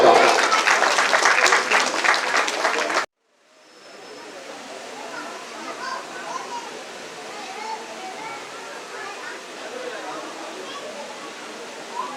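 Loud, dense applause from the audience at a Tulsidas Jayanti award ceremony in Kurra lasts about three seconds, then cuts off and gives way to a low, steady crowd murmur for the rest of the clip.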